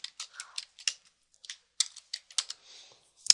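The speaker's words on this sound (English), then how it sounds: "this time, we're just going to type the title Wedding Day." A run of crisp, light clicks comes from typing a short title on a computer keyboard in quick uneven bursts with small pauses, close and fairly soft, with no voices.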